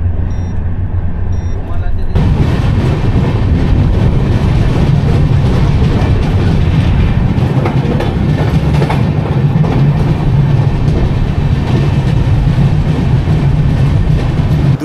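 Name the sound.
Howrah–Puri Superfast Express train running at speed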